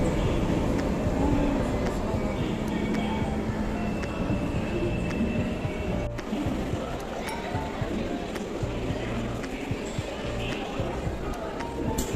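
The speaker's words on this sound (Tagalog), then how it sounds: "Ayan na yung tren." An MRT train arriving at Pasir Ris station in Singapore rumbles steadily nearby with a low mechanical roar and squeal, while people talk over the noise.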